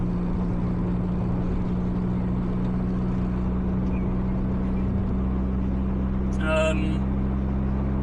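Toyota MR2 Mk3 1.8 turbo, about 340 bhp, cruising with a steady, fairly civilized engine and exhaust drone heard from the cabin, a constant low hum throughout with a brief higher chirp near the end.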